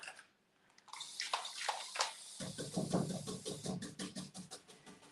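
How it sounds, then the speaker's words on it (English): Spray bottle of plain water sprays in a series of quick, close hissing spritzes, a steady run of short bursts following a brief quiet start and a few scratchy handling sounds. "It doesn't even mind me spraying the water here."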